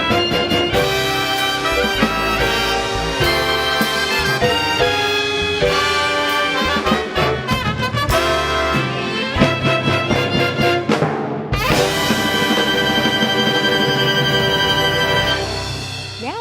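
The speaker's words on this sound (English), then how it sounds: "the entire San Diego Musical Theater Orchestra sounds like this." The full San Diego Musical Theater Orchestra, with reeds, strings, brass and rhythm section, plays a dense, loud passage, broken by a short pause and then a big sustained swell with no voices.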